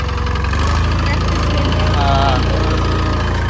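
A tractor engine runs steadily at close range, a continuous low chugging idle with a rough, vibrating throb, while people talk over it.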